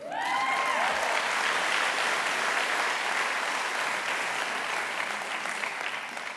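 A crowd at an executive MBA commencement claps in sustained applause, a broad, even roar of many hands that stays strong throughout and only slightly eases toward the end.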